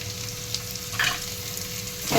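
Boiled potatoes fry in hot oil as a potato bhaji cooks, giving a steady close sizzle with a brief louder surge of spitting in the middle; nobody speaks.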